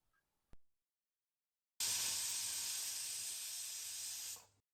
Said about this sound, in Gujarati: પ્રેશર કુકરનું ઢાંકણ બંધ કરી ત્રણ વિસલ થવા દઈશું